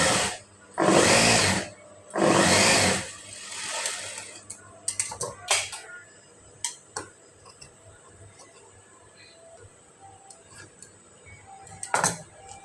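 A sewing machine stitching the front part of a blouse runs in two short whirring bursts, then falls to sparse clicks and taps as the fabric is handled.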